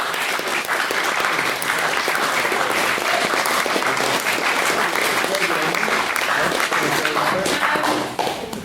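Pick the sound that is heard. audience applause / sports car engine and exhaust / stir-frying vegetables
audience applause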